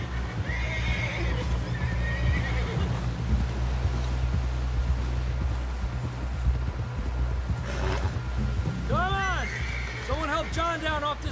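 A horse in Red Dead Redemption 2 whinnies twice near the end over steady clip-clop of hooves, with low ambient rumble throughout and a voice speaking briefly.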